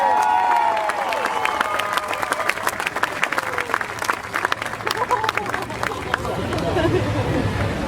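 Crowd applause for a high school band at a statue dedication, with steady clapping mixed with chatter and cheering throughout, and a voice sounding faintly beneath the noise.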